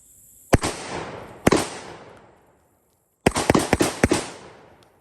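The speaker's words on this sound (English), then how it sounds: "I'm going to rapid fire to see if this thing's going to cycle" Panzer M4 shotgun firing number 6 birdshot: two single loud blasts a second apart with echoing decay, then after a pause a rapid burst of about five shots in quick succession, all close and sharp.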